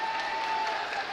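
A high school basketball student section gives a brief round of applause to a player entering the game, a short burst of steady clapping over gym ambience with a faint tone running underneath.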